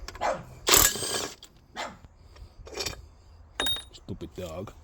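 A dog barks several times in short, separate bursts, loud and close, spread across the moment during roadside work on a car's timing belt and rocker cover, with someone speaking briefly.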